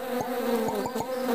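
Bees buzz loudly and close by in a steady, droning hum with slight wavering pitch, filling the whole short stretch without any speech.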